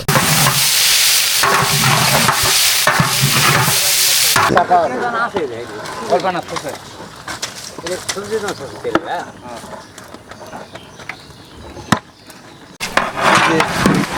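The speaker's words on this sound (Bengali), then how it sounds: "আলু এবং মাছের যে মিশ্রণ সেটা কিন্তু একসঙ্গে মেশানো হচ্ছে" A large potato and fish mixture is stirred and fried in a big pot, with loud scraping and sizzling at first, then softer clatter and stirring under people talking nearby.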